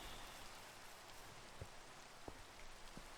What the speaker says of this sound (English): Oh, really? Rain?